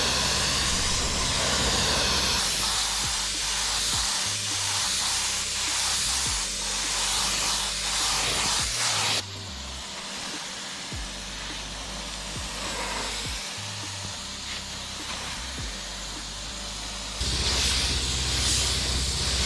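Small gravity-fed spray gun spraying paint onto a budget dinghy in a backyard, producing a steady close airy hiss that runs in long continuous passes with a brief break partway through.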